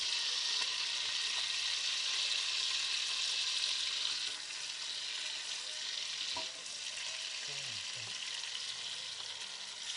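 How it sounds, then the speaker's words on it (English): Lamb sears in butter in a hot pan, giving a steady close hiss of frying with a faint dull clunk partway through, all without any voices. "So sear the lamb in the butter."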